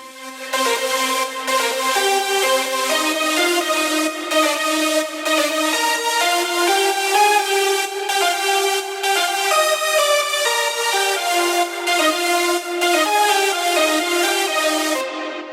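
A bright, layered synth lead, fully processed, plays a continuous melody with wide, full harmonics, steady and loud from start to finish.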